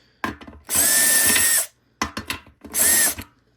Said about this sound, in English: I didn't have to use the drill. But I'm gonna just use it for now.